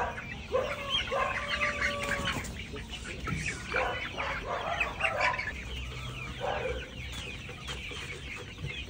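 Young chickens, two to three months old, cluck and chatter in a busy flock nearby, with overlapping clucks and short calls in an irregular rhythm and faint talk in the background.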